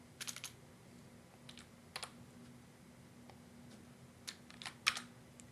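Faint bursts of computer keyboard typing, scattered keystrokes in short clusters separated by pauses, heard close over a low steady hum with no speech.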